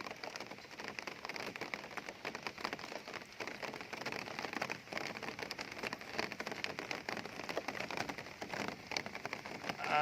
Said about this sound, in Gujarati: વાવેતરનું કામ ચાલુ છે ને વરસાદ ધીમો ધીમો ચાલુ થઈ ગયો છે.